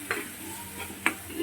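Mutton keema frying in oil in a pan over medium flame with garam masala, ginger-garlic paste and spices; a steady soft sizzle runs throughout, broken by a few scraping stirs of the spoon, close and without talk.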